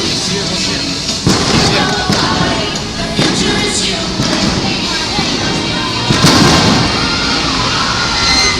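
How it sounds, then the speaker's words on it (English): Loud fireworks pop and boom in repeated bursts at Tokyo DisneySea at night, against a dense crowd murmur, with people talking throughout. "it actually seems to be a much more extensive fireworks show than it was when I saw it last time"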